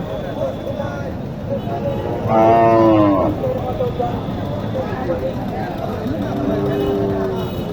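A cow gives a loud, drawn-out moo amid a busy cattle market crowd in Naogaon, Bangladesh, with steady voices and chatter continuing around it.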